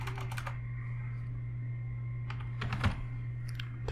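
Quick bursts of keystrokes on a computer keyboard, faint and close, in two short clusters over a steady low hum.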